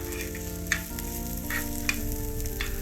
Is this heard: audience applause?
no